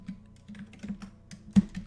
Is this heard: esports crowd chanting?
no